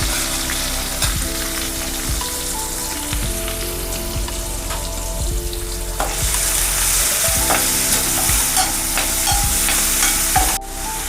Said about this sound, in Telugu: ఆనియన్ వేసేస్తున్నాను.